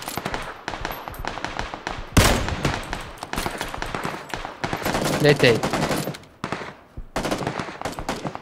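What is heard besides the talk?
gunfire in Battlegrounds (PUBG) video game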